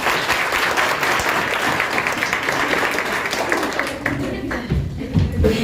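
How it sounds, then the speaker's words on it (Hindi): Applause from a coaching institute audience fills the room with dense, steady clapping for several seconds, thinning slightly toward the end. "चलिए तो एक बार जोरदार तालियां।"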